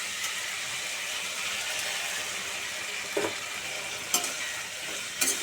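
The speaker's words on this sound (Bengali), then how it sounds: "মশলা আর আদাটাকে বেশ ভালো করে কষিয়ে নিচ্ছি" Spices and ginger fry in a pan for a Bengali vegetarian banana-flower dish, a steady close sizzle running throughout, with a few brief scrapes of stirring breaking through.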